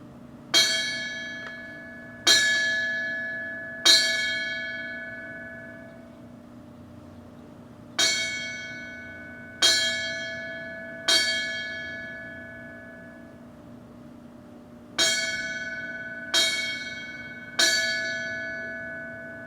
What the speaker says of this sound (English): You will now hear 3 rings 3 times as we remember 9/11.